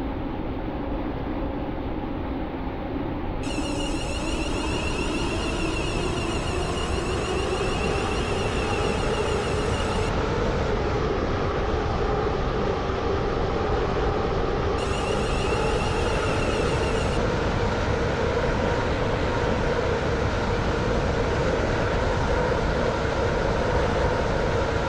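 A Class 350 commuter train runs in the Stepford County Railway game, with a loud, steady rumble and motor whine that slowly rises in pitch as it speeds up. High electronic tones sound over it in two stretches.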